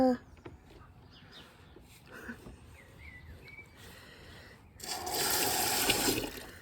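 Water rushes from household plumbing that has just thawed after the pipes froze. It swells into a loud, steady gush partway through, after a quieter stretch of faint handling noises, and it runs on without any talk.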